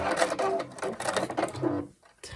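A home sewing machine stitches over a bulky fabric seam in quick mechanical bursts of rhythmic clatter, close and fairly quiet, briefly pausing before restarting.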